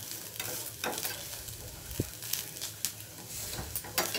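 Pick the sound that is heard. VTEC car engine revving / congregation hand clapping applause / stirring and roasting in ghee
stirring and roasting in ghee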